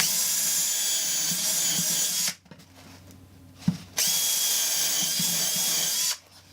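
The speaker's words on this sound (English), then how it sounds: "I'm going to pre-drill some countersink holes and attach the sides." A power drill pre-drilling countersink holes in a wooden garden stool whines loudly in two long bursts, with a short pause and a brief knock between them.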